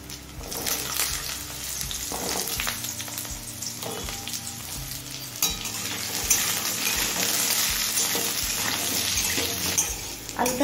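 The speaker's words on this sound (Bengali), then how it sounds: "আলুটা মিডিয়াম ফ্লেমে হালকা লাল করে ভেজে নিয়েছি।" Potatoes fry in oil over a medium flame, a steady dense sizzle with occasional stirring clinks running throughout, close and fairly loud with no talking.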